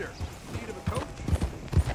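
Horse hooves clip-clop in the video game Red Dead Redemption 2, with a short run of thudding steps growing louder toward the end and soft voices faintly under them.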